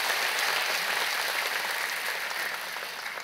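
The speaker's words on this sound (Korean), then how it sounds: "여러분 그의 박수로 환영하시지요." A church congregation claps steadily to welcome a new pastor, a dense, even burst of applause throughout that eases slightly toward the end, with no voices standing out.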